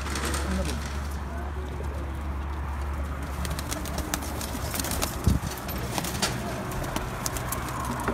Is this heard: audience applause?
no